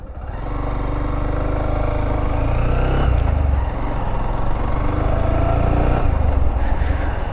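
A Honda X Blade 160cc motorcycle on a ride, its engine droning steadily and loud throughout with slight shifts in pitch as it moves, no voices over it.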